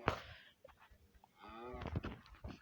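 A cow moos in a farm video game, a loud close bellow with a short grunt first and then a longer drawn-out low call, alone without talk.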